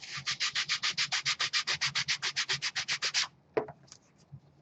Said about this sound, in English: That peels right up as soon as you start sanding it